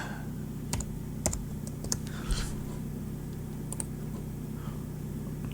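A handful of sharp computer mouse clicks, spaced irregularly over a few seconds, sounding close against a steady low electrical hum.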